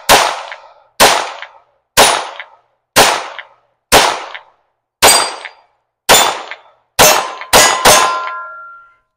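Ten sharp, loud shots from a Beretta M9 .22 caliber pistol at an outdoor range, evenly spaced about a second apart, the last few quicker, each with a short ringing tail and metallic target clang.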